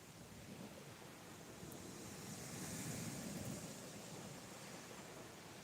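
Sea waves washing onto a UK shore at night during a fishing session, a steady broad hiss of surf that swells slightly in the middle, with some wind and no voices.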